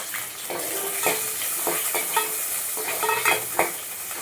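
Finely chopped onions dropped into hot cooking oil with mustard seeds and crushed garlic for Chennai sambar, sizzling steadily while a spoon stirs in repeated scraping strokes, close and fairly loud.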